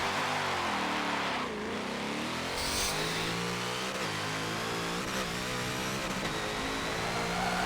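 Car engine in the racing game Forza 7 with loosened roll bar tuning, revving loudly as the car accelerates and spins out, pitch rising and dropping with throttle and tire noise throughout, no talk.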